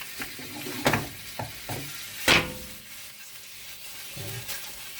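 Garlic butter shrimp sizzle in a pan close up under a soft frying hiss, with a few sharp clatters and one loud scrape of stirring. No one speaks.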